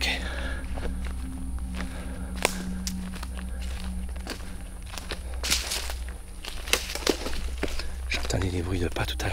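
Footsteps crunch through woodland undergrowth at night, a steady run of close, sharp cracks and rustles from leaves and twigs underfoot, fairly loud against a quiet background.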